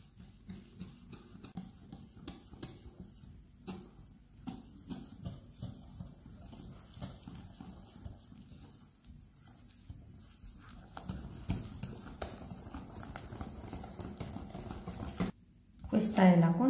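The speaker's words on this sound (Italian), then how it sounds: "E lavoriamo con la frusta." A whisk beats batter for zucchini fritters (flour, instant yeast and water) in a bowl, giving a steady, rhythmic clatter and patter that runs throughout, with a voice at times and a louder burst near the end.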